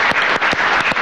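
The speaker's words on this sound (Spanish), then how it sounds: "Vamos a darle un aplauso a Tune el Fuerte." An audience at a political gathering breaks into applause, a brief burst of rhythmic, fairly loud clapping with no talk.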